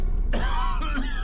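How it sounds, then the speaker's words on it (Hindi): A man coughs in a Hindi TV drama scene: a short, rough, throaty cough bursts in after a brief quiet moment and is followed by a strained, voiced rasp. "सिर्फ खांसी है।"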